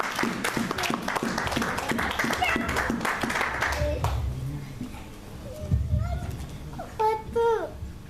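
Church congregation applauding and cheering for Jesus, rhythmic clapping and voices filling the room for several seconds before fading into scattered calls and chatter.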